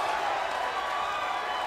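A crowd at a women's fight event roars steadily with cheering and applause, a dense and continuous wash of noise that holds at an even level throughout.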